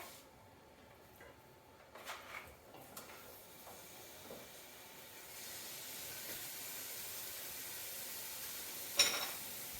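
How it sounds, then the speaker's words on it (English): Chunks of beef for a stew are tossed into a pan and fry over medium-high heat, a soft hiss with a few clattering bumps early on that rises to a steady, brighter sizzle. "I'm going to go ahead and toss this into the pan to fry"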